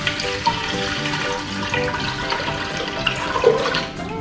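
Two thousand milliliters of water pour steadily into a vessel for a yeast starter, a continuous splashing gush with small bubbling accents throughout.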